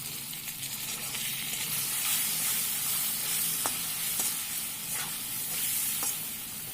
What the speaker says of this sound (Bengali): পরিমাণ মতন লবণ আর হলুদ দিয়ে আলু লাল লাল করে ভেজে নেব।